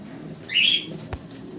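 A pair of Maxi Racer pigeons gives a single brief bird call, a short bright note standing out over a low room hum, followed by a faint click; no talk.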